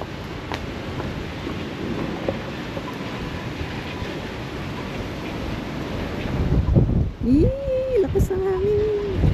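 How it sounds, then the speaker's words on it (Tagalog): Strong cold wind blows outdoors in New Zealand, roaring steadily against the microphone with louder gusts. Voices talk and exclaim over it near the end. "Lakas ang hangin."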